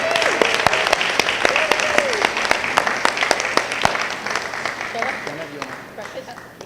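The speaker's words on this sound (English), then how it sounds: "let's give a round of applause to all of our recipients again" At a school award ceremony at Healey School, an audience applauds student recipients with sustained, fairly loud clapping from many hands, while voices chatter and call out beneath it as it gradually fades.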